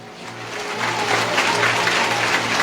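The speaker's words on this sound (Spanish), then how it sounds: "Fuerte aplausos" Applause at a church gathering with a healing theme, a steady wash of clapping that swells after the first moment and holds loud and even, with a humming tone running beneath.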